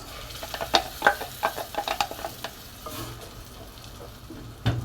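Spinach puree going into a pan for Indian palak paneer, stirred with a utensil: a series of close scraping, clinking stirs in the first half, then a softer cooking sizzle with a final clatter.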